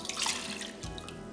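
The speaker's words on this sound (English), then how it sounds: "I'm just going to pour over 2 cups of chicken broth" Chicken broth splashes and gurgles as it pours into a crock pot, a steady trickle with a few drips, close by and fairly quiet.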